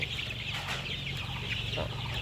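A flock of Sonali chickens clucks continuously nearby, overlapping calls forming a busy, steady chorus with no talking.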